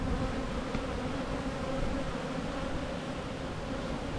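Bees hum in a dense, steady drone during a beehive inspection, close and continuous throughout.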